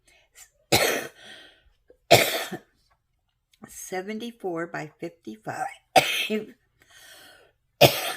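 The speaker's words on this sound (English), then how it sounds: "got a coughing attack here." Several harsh, close coughs spaced a second or two apart, with a short stretch of speech between them.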